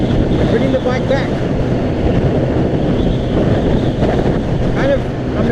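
Gusty wind hitting a rider on a Honda CBR600RR motorcycle, heard as a continuous loud roar of rushing air buffeting the microphone with no break.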